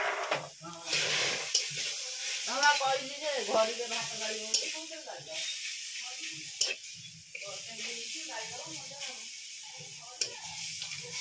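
Fish coated in masala fries in hot oil, giving a continuous soft sizzle and hiss in the background while people talk over it almost the whole time.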